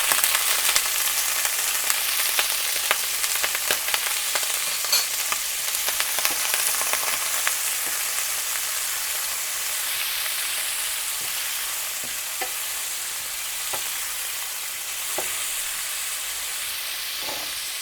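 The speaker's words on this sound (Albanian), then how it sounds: "Skuq pak karkalecat dhe pastaj vazhdoj me të tjerat." Shrimp fry in a pan for pasta, a continuous close sizzle with scattered crackles and occasional scraping stir clicks, loudest at first and settling to a steadier hiss.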